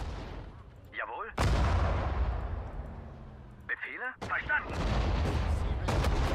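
Artillery and gunfire in the Sudden Strike 4 WWII strategy game at the Battle of Sedan, with repeated loud cannon booms and rattling shots. Short German voice lines break in between the blasts.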